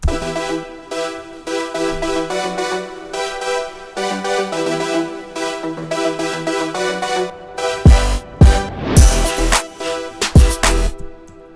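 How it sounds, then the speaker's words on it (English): A melodic electronic beat plays steadily, then breaks into a bridge where a sweeping riser effect climbs in pitch over choppy hits. "let's just throw a quick riser, and let's listen to that bridge now"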